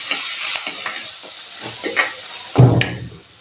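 A tempering of mustard seeds, urad dal, dried chillies and curry leaves frying in hot oil for tomato rasam, with a steady hiss, scattered stirring scrapes and a sharper sizzle burst near the end.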